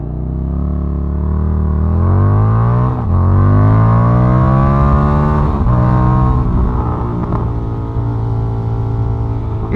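A Indian FTR 1200 motorcycle engine revs hard and climbs in pitch, shifting gears twice as it accelerates, loud and close with no talking.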